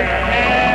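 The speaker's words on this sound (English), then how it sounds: "Sheep on Lancer land." A single sheep gives one loud, sustained bleat, close and wavering, with no talk over it.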